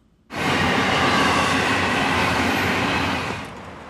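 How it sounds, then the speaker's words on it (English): A northbound Brightline passenger train rolls into Aventura station, its loud, broad roar rising abruptly and sustained close by, with faint wheel squeal and a slight easing toward the end. "a northbound Brightline passenger train pulling into the Aventura station"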